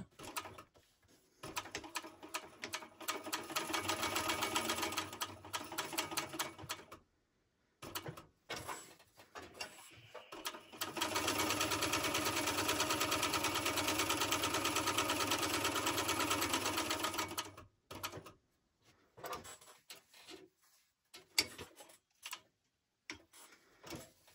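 Sewing machine basting bag pieces at a 3.5 stitch length, running in two sustained bursts of steady whirring with handling clicks and pauses between them.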